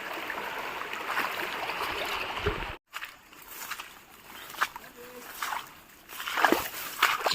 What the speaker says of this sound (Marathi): नदीचं जिथे कमी पाणी आहे अशा भागातून आम्ही चालत चाललो आहे